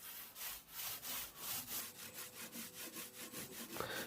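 Sandpaper rubs back and forth along the edges of an MDF cabinet in steady, even strokes, a close, soft rasping rhythm of roughly four passes a second with no voices.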